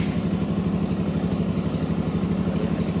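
A Suzuki Gixxer 155 motorcycle engine runs with a steady, rhythmic low chug close by, loud and even throughout, without any voices.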